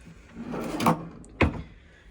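A bottom drawer in a Japanese hotel room slides along its runners and then shuts with a sharp thump, one close, clear movement in an otherwise quiet room.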